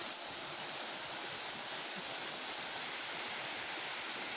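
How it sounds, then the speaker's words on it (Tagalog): Water pours steadily over the top of Tarimes Falls, a constant loud, close rush of white noise with no breaks. "Ito ang ibabaw ng Tarimis Falls."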